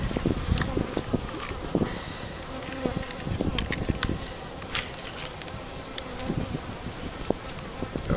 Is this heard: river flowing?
no